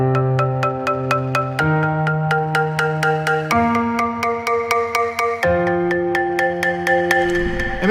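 Synthesized chords from a free MIDI chord kit pulse in a steady rhythmic pattern, the chord shifting roughly every two seconds, loud and clear with no voices.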